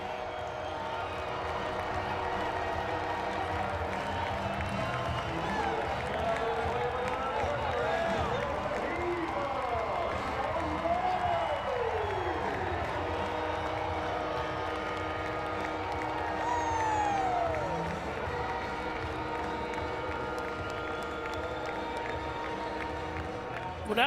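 Home crowd at an Arkansas college baseball game against Ole Miss roars steadily after a three-run home run, sustained cheering and applause filling the whole stretch with a broadcast commentator talking over it.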